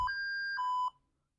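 SCADA software alarm beeping: a clean electronic tone at one pitch, then a second, lower tone, about a second in all, clear and alone before a brief fade.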